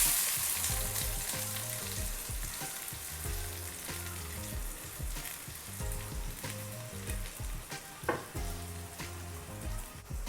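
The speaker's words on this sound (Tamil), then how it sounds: "நம்ம கட் பண்ணி வச்சுருக்கிற சின்ன வெங்காயத்தை போட்டு பொன்னிறமாகிற அளவுக்கு வதக்கிக்கலாம்" Small shallots fried until golden with cloves, cardamom and cinnamon for a prawn thokku, sizzling steadily and loudly in hot oil with occasional stirring scrapes, close and continuous with no talking.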